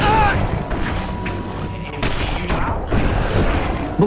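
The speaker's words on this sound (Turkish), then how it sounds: "Silahla saldırıyorum." Gunfire in the video game The Darkness II, a dense burst of loud booming shots and thuds from an attack, with other game sounds mixed in.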